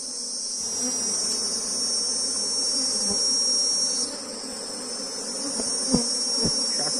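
Honeybees at an opened hive frame make a close, continuous buzzing hum that swells and eases slightly, with a few faint knocks near the end and no talking.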